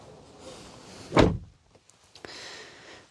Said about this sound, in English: as I close up the door here